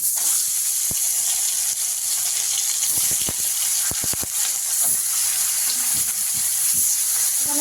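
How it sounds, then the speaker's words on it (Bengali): Fish rubbed with salt and turmeric spits and sizzles in a hot wok, with a steady loud hiss of oil throughout and several sharp crackling pops bursting out in quick clusters. "মাছগুলো একটু লবণ হলুদ মাখিয়ে নিয়েছি পরিমাণ মতো এখন গরম কড়াইতে দিয়ে দেবো"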